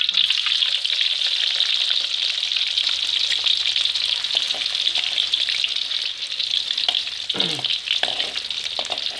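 Sticky rice cakes with egg, and meatballs with tomato sauce, sizzle loudly in hot oil, a constant close crackling hiss with occasional stirring noises.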